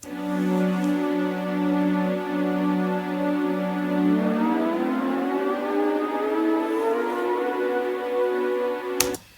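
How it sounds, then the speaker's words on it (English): A sustained synth pad holds a steady chord, then slowly bends upward in pitch, smooth and continuous, ending with a brief click. "which is just a synth pad, and I did a pitch bend with it."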